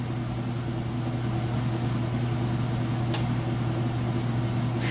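A Whirlpool Ultra Care II washer runs its cycle with a smooth, steady low mechanical hum, constant and even, broken only by one faint brief click.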